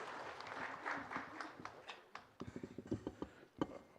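Audience applause at an ESG roadshow event in Noida, a broad clapping wash over the first couple of seconds that thins into scattered individual claps and a few knocks before fading.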